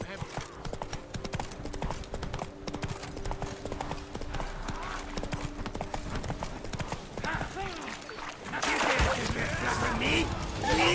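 Roach, a horse in The Witcher 3, gallops with rapid rhythmic hoofbeats throughout, alongside game music and a voice speaking; the gallop grows louder and busier near the end.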